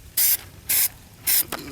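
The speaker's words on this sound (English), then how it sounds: "it's not a easy part to spray there with a different angle" Spray can painting a car's molding trim, three loud separate hissing bursts with a short fourth puff at the end, close to the mic with nothing else audible.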